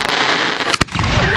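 Rockets and fireworks burst at an outdoor Bonfire Night display in Hull, a sharp loud bang standing out from a steady crackling, hissing wash.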